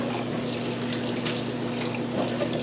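Water is poured into a cooking pot for a chicken stew, a continuous splashing, gurgling stream with a steady low hum beneath it, moderately close and without speech.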